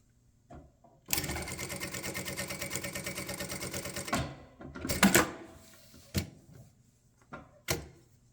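A Jack A5E-A industrial sewing machine stitches a seam in fire retardant fabric: a loud, steady, rapid needle chatter for about three seconds, then several short bursts and clunks of the machine finishing and trimming.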